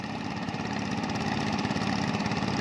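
A tractor engine runs steadily in second gear while pulling a leveler through a wet paddy field being prepared for rice sowing, a continuous loud mid-low drone with no pauses and no talk.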